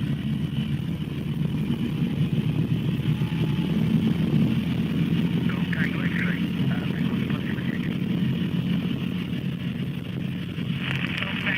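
A small training helicopter engine runs up toward 530 RPM, a loud continuous low rumble and drone that holds steady from the cockpit with no break.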